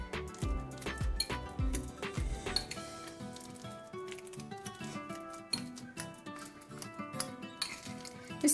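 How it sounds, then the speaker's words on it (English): Fork mixing banana bread batter in a bowl, giving irregular clinks and soft squishing scrapes of metal against the bowl, close and steady over a busy background. "you just mix it with a fork"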